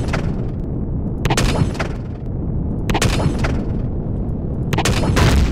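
Gunfire in the video game Empyrion, with loud bursts and booms standing out from a constant rumbling bed, several clustered volleys close together.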